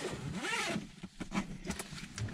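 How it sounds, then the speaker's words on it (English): The zipper on a Velocity Pro Gear Rogue 1.5 electrician's van bag is pulled open in one long, close rasp, followed by a few softer fabric rustles. "If I go and unzip the bag itself,"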